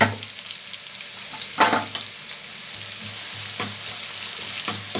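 Sliced onions fry steadily in hot oil for mutton chukka, turning golden, with a continuous crackling sizzle, a louder burst of spattering near the start, and occasional stirring scrapes.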